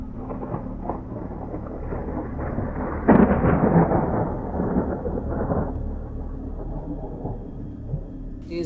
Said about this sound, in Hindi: तेज हवाओं के बीच बादल जोरदार आवाज़ के साथ गरज रहे थे